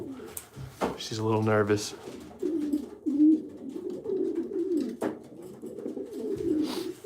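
Racing pigeons coo softly inside a loft, low rolling calls that come and go under someone speaking nearby.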